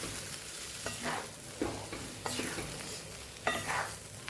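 A spoon stirs potato and eggplant curry after water goes into the pan, giving soft sizzling with several distinct scraping strokes at irregular intervals, close up and moderately quiet, with no voices.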